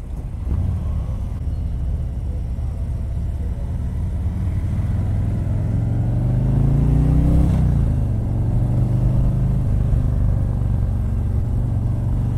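A 2019 Harley-Davidson Street Glide 107 motorcycle rides along with a steady, loud low engine rumble, swelling as it accelerates midway and then settling back into a constant drone, with no voices.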